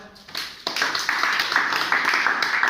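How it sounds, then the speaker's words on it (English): A classroom of students claps for a classmate after an answer in an English grammar lesson, the clapping starting lightly and then swelling into steady, moderately close applause. "So one big clap for"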